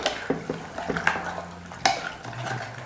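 Sambar ingredients stirred together with water and oil in a metal pot, heard as a series of clinks and scrapes of a spoon against the pot, up close, with no talking.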